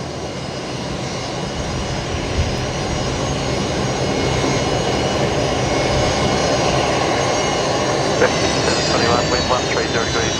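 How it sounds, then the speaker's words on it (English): A Fokker 70 jet airliner rolls down the full length of the runway at Brisbane Airport on takeoff, a steady, loud engine roar sustained throughout with a rising whine near the end. "another Fokker heading off now, full length"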